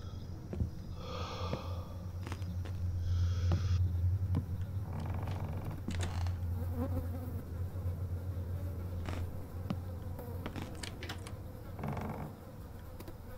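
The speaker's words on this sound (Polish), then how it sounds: "Słyszę oddychanie." Heavy breathing in the horror video game Summer of '58 comes as slow, soft, rhythmic breaths over a low rumbling ambience, spaced out across a quiet stretch with no talking.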